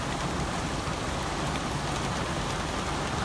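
Heavy rain pours steadily during a storm in Bay Minette, a loud, unbroken hiss of drops hitting surfaces with no pauses and no voices.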